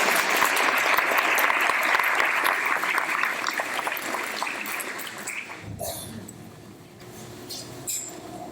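An audience applauds at a school candidate forum, continuous moderate clapping that stops abruptly partway through, leaving quiet room tone with a few faint clicks and shuffles.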